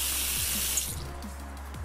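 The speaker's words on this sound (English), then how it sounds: "Hot water." Hot water runs steadily from a kitchen tap in Cooking Simulator, a close, continuous hiss and splash that eases slightly partway through the short clip.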